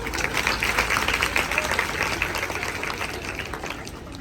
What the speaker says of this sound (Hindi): एक बार भरपूर तालियां।